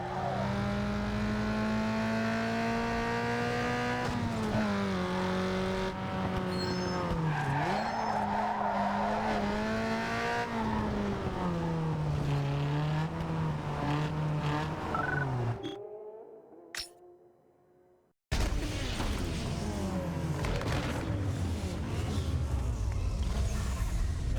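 Race cars in the Need for Speed Underground 2 video game, including a tuned Corolla, with a loud sustained engine drone, rising and falling revs and tire squeals, cutting out briefly before the engines return.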